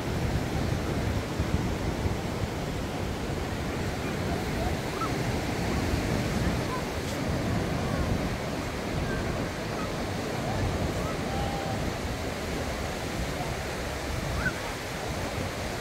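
Surf rolls in continuously at Meia Praia beach in Itapema, Brazil, a broad steady wash of breaking waves mixed with wind buffeting the microphone, with faint voices mingled in.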